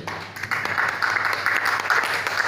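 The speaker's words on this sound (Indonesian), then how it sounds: "Tepuk tangan lagi dong." Audience applause at a working meeting of the Kebumen regional residents' association, steady and moderately loud for the whole stretch with dense overlapping claps and no talk on top.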